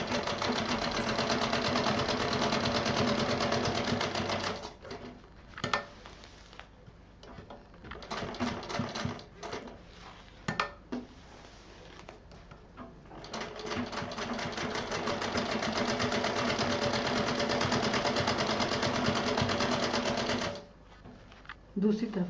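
A sewing machine stitches a fabric pouch in close, rapid bursts, running steadily, stopping for several short pauses with scattered clicks and handling noises, then running a long continuous stretch before halting near the end.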